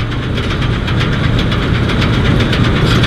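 A 1977 Massey Ferguson MF307 tractor engine clatters loudly and close by in a rapid, rough knocking rhythm over a constant rumble, with no voices.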